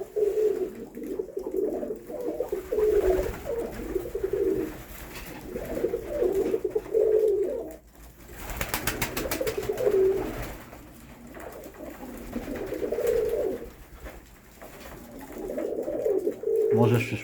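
Pigeons coo repeatedly inside a loft, a steady layered chorus of low throaty calls rising and falling, with a brief noisy burst midway and faint movement around them.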